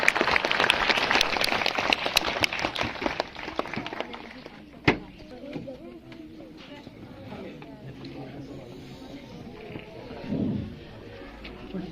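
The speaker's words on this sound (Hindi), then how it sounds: "इस बच्चे के लिए जोरदार तालियां।" An audience at a school result-day event applauds a student: loud, dense clapping for the first few seconds that fades into scattered claps, a sharp bang, and crowd chatter with voices.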